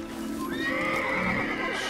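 A horse in the Assassin's Creed video game gives a loud, close whinny with rising and falling tonal cries, with faint hoof clip-clops underneath.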